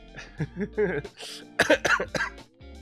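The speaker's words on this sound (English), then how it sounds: "And as you can see, I'm still coughing." A person recovering from COVID coughs several times up close, short harsh bursts with voiced sounds between them.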